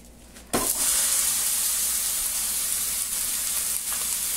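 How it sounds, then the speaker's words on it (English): Ground beef, about 1.2 pounds, hits a hot pot with a sudden loud burst and then sizzles and hisses steadily, close and continuous, with no talking. "I'm just going to go ahead for right now and just dump it in the pot."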